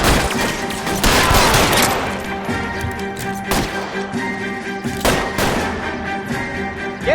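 Loud gunfire crackles through a shootout in L.A. Noire, with bursts of overlapping shots, heavy booming reports and sharp cracks spaced irregularly across the scene, close and dense throughout.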